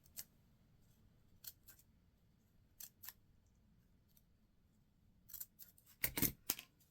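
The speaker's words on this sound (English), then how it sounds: "you're going to take your scissors, decide which end that you want, and you're going to cut it in 4 directions" Scissors snip through a rolled paper flower stem in a handful of separate short cuts, sparse at first and then a quick close cluster near the end, with quiet pauses between.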